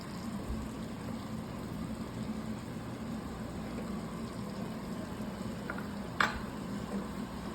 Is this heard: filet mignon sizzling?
yes